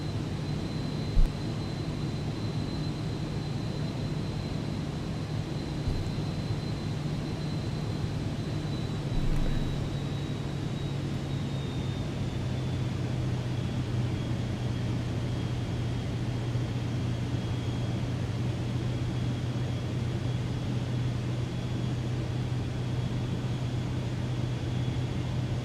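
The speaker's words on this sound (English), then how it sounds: "Sim sounds are up and good, so y'all can hear the plane here." Steady, unbroken drone of a Vision Jet engine in Microsoft Flight Simulator 2024 on approach into Queenstown, New Zealand, with a constant high whine and low hum that shift slightly in pitch partway through.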